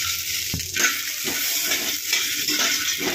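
Makhana (fox nuts) fry in hot ghee with a dense, continuous sizzle and crackle, broken by soft scraping stirs of a spoon in the pan.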